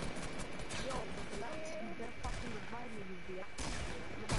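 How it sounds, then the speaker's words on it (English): Rapid gunfire crackles through a Fortnite match as the player takes hits, sharp bursts layered over a steady game backdrop while players talk excitedly. "We're getting shot up again."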